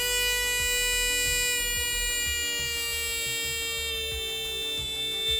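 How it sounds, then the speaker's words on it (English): A battery-powered electronic buzzer wired with a resistor gives a steady buzzing tone throughout, shrill and constant with layered harmonics, over faint low thumps. "So I'm connecting now the resistor to the buzzer and the battery also to the buzzer."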